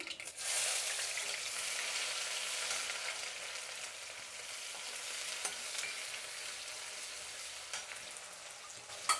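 Onions fry in hot oil with popped mustard seeds and fenugreek seeds for an Indian lentil dish. A bright, dense, continuous sizzle and crackle holds steady throughout, with occasional stirring clicks and a small knock at the end.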